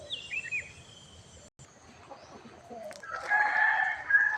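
Roosters crow at Wat Pong Chai, a temple in Chae Hom, Lampang, with one loud, drawn-out crow ringing out near the end after quieter birdsong and open-air ambience.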